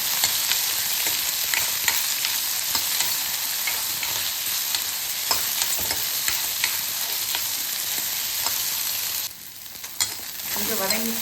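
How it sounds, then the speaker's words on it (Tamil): Okra sautéing in oil in a pan, a continuous bright sizzle with frequent scraping stirs of a spoon, close up, the frying briefly quieting near the end before resuming. "நல்லா கொஞ்சம் எண்ணெயிலே வதக்கிக்கணும்."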